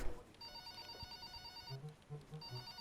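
An office desk telephone rings quietly in repeated electronic bursts separated by short gaps, with low murmuring tones underneath.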